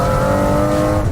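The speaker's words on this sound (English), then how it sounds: "hear, you know, the naturally aspirated BMW V12 engine in the car" A loud naturally aspirated BMW V12 engine in a McLaren F1 holds a steady, strong rev inside the car, its deep mechanical drone constant throughout the brief moment.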